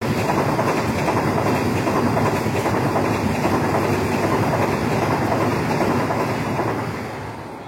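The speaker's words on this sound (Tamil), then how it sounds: "2 minutes மினிட்ஸ் ஹால்ட்டுக்கு அப்புறம் வண்டி கிளம்பிடுச்சு" Train of the Tiruvananthapuram–Tiruchirappalli express pulling out after a two-minute halt, running on rails in the Western Ghats; steady loud rumble with rhythmic clickety-clack of wheels throughout, easing slightly at the end.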